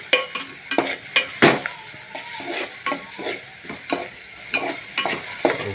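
Ginger, chili and coriander paste slowly stirred in a pan over a low flame: repeated scraping strokes of a spoon in an irregular rhythm over a soft continuous sizzle, close up and without speech.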